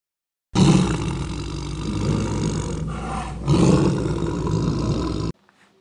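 A tiger roars in two long, loud, rumbling sustained bursts close by, with a short dip between them before the sound cuts off abruptly.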